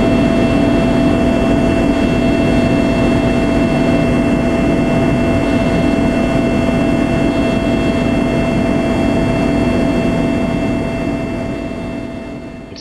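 Constant loud engine drone with a steady whine over a dense rumble, like riding inside a helicopter cabin, easing off slightly at the end.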